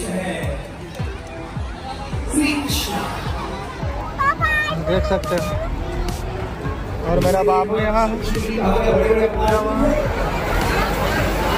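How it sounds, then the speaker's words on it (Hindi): A large crowd gathers at a Shrimad Bhagwat Katha religious event, filling the air with a dense, steady hubbub of chatter and children's voices. Someone talks close by over the noise. "देख सकते हैं दोस्तों गजब का भीड़ है"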